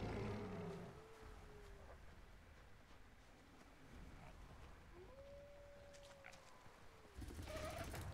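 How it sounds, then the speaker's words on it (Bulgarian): Wild animals in the Far Cry Primal game give long, drawn-out howls and roaring calls, two rising-and-falling cries heard at mid distance over a steady low ambient rumble, with a louder burst at the end. "Чувам как вият."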